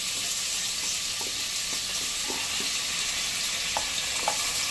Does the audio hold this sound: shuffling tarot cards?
no